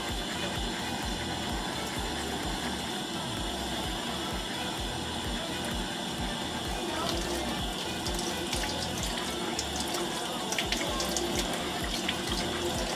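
A makeup brush rinsed under running tap water at a sink after washing with Johnson's baby soap: a steady, close rush of flowing water throughout, with light splashing and trickling as the bristles are worked under the stream.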